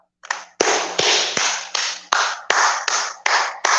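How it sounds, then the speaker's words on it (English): A run of about nine loud, sharp claps in a steady rhythm, close by, each burst ringing briefly before the next, with a quiet hum underneath. "Clap it up."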